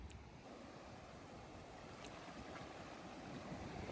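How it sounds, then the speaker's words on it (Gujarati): Big sea waves rush and wash steadily around a fishing boat at sea, a continuous broad roar with wind buffeting the microphone and no talk. "મોજું જબરું આવે."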